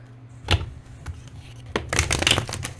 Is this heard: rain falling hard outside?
no